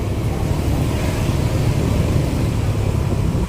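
Dense street traffic thick with motorbikes in an Indonesian village in the run-up to Lebaran, a steady continuous roar of engines and road noise with no gaps, fairly loud and close.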